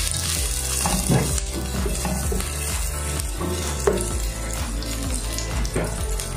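Onions and garlic sautéing in a pan while making beef caldereta, a steady loud sizzle with occasional stirring clatter running throughout, no talking.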